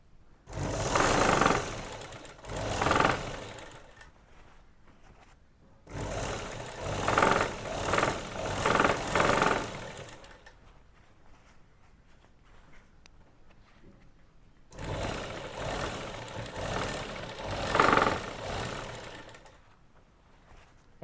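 A sewing machine stitches around the edge of gents' shorts in three bursts of fast, rattling mechanical whirring, separated by quiet pauses.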